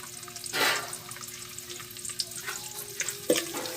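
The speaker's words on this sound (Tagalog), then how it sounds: "Magigisa tayo ng bawang, sibuyas, tsaka luya." Garlic, onion and ginger sauté in a pan with a soft close sizzle, punctuated by a few brief scraping stirs and utensil clinks, with no talking.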